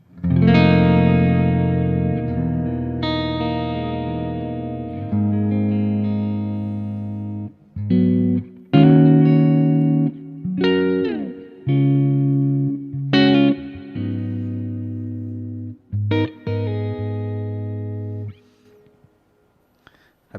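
Distorted electric guitar through a Quad Cortex amp model with reverb added, chords ringing out with lingering tails between phrases, loud and alone, fading to a quiet decay at the end.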